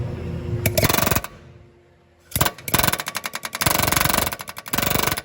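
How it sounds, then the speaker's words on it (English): Bursts of rapid, loud metallic hammering or impact-tool strikes, close up, driving out differential bushings on a Lexus IS300, separated by a short quiet pause. "now we're ready to hammer these things out"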